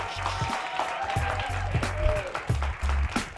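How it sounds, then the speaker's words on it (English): Audience applause for a comedian at a televised stand-up comedy show in Chicago, steady crowd clapping with some cheering voices mixed in, moderately loud and sustained throughout. "Give them a round of applause, right?"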